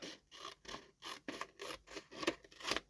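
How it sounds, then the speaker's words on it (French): Scissors snip along the edge of a paper page in a series of soft, close, rhythmic rasping cuts, about ten strokes in quick succession, quiet and with no talk. "Je vais couper le rebord."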